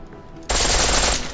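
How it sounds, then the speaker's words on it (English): Pistol firing on full auto in the video game Deus Ex: Mankind Divided, a sudden loud burst of rapid continuous shots that starts abruptly after a brief quiet moment and holds steady to the end. "The pistol in full auto will take down targets fast."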